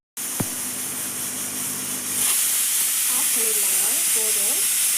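A pressure cooker of cowpea rice vents steam in a steady hiss once locked, the broadband rush growing louder partway through and running continuously with faint background sounds.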